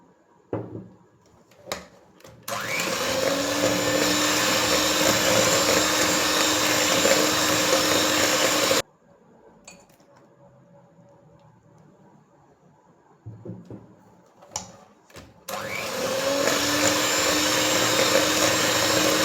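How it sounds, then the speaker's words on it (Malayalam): Electric mixer beating eggs, added one at a time, into creamed butter and sugar for an orange cardamom cake batter: a loud, steady whirring drone that runs for several seconds, cuts out, gives a few short bursts, then starts up again. "ഇനി നമുക്ക് മുട്ട ഓരോന്നായി ചേർത്ത് ബീറ്റ് ചെയ്യാം."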